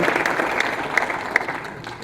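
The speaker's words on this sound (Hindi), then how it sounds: "मैं चाहता हूँ मेरी सभी अपलाइन और मेरी टीम के लिए जोरदार ताली होनी चाहिए" A crowd at an RCM success celebration applauds the speaker's upline and team, with brief, steady clapping from many hands and a few sharper claps standing out.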